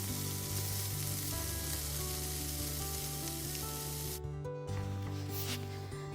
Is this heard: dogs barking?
no